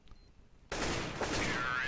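Rapid gunfire in a Counter-Strike match on the de_nuke map, bursting in suddenly after a quiet moment and continuing as a loud, dense volley of shots.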